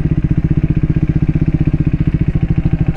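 A Triumph Speed 400 motorcycle engine thumps in a fast, even rhythm of loud low pulses as the throttle opens slightly, close up and with no voices over it.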